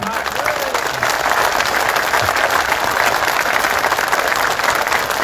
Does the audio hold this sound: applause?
yes